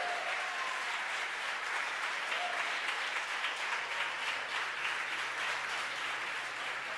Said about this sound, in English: the folks who watched the mission cheering